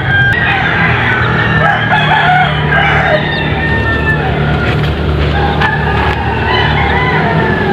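Chickens, a brooding hen with hatching chicks, cluck and peep continuously close by, with a busy, dense chorus of bird calls over low background noise.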